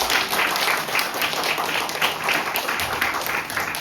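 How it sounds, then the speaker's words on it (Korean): A church youth group audience on an autumn retreat bursts into sustained, lively applause, many hands clapping together in a full, even roar that keeps going. "자매님들께 큰 격려의 박수를 보내주시기 바랍니다."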